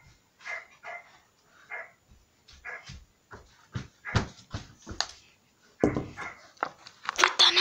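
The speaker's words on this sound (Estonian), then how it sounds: "Koera!" A dog whimpering, yipping and panting in a home kitchen, short bursts spaced irregularly and growing louder toward the end, close by with no talk over it.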